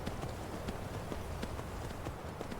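Horse hooves clip-clop in a quick, steady galloping rhythm while riding in the video game Skyrim, continuous and fairly close, with no talking over them.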